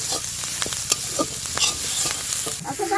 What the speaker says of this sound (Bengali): হ্যাঁ নাকি পেঁয়াজগুলো ভালোভাবে ভাজা হয়ে গেছে।